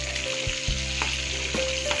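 Dried prawns fry lightly in hot oil, giving a steady close sizzle with a few soft stirring knocks, alone with no voices.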